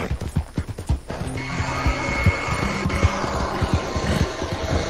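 Horse hooves clip-clop in Red Dead Redemption 2 Online, a steady rhythmic trot of close, fairly loud thuds over a busy game background.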